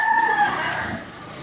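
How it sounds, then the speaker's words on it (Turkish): Roosters crowing on a residential street in a Hindu neighbourhood of Bali, a clear near crow with two sustained tonal lines fading out, alone without talk. "Bak bunlar hepsi horozlar işte."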